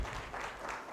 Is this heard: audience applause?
yes